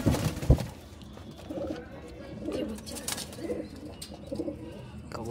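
Many pigeons in a loft coo in soft, low throaty bursts that rise and fall continuously, with a heavy thump or flutter near the start and a busy, close flock murmur throughout.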